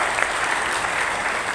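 Audience applause at a motivational talk, a dense, steady wash of clapping heard alone for a moment.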